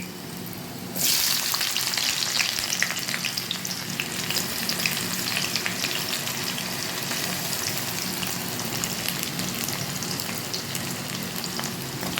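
Onions drop into hot oil with garlic in a pan, setting off a sudden loud sizzle that keeps crackling steadily nearby, with occasional stirring.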